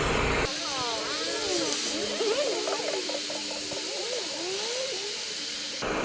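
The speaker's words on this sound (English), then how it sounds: "Oh, we're getting steam already." Water boiling on a Firemaple Petrel G2 camping stove sends out a steady, close steam hiss, with warbling, whistle-like tones sliding over it for several seconds before it cuts off.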